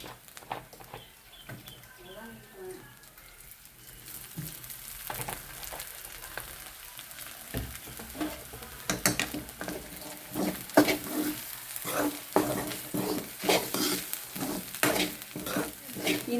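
Grated coconut crackles and sizzles in hot oil in a pan. A spoon scrapes and stirs it in repeated strokes, and the frying grows busier and louder as it goes on. A voice is faintly heard now and then.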